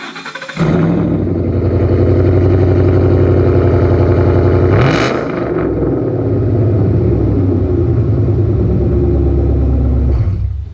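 Ford engine fitted with Flowmaster Outlaw mufflers cranks over and settles into a deep, loud idle, rising in one quick rev midway before dropping back to a steady rumble until it cuts off.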